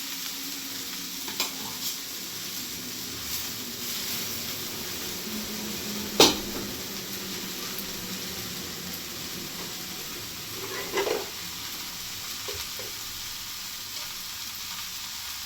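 Cooked rice tossed and stirred in a hot pan on a gas hob for veg fried rice, a soft steady sizzle with a few sharp clinks of a spatula against the pan.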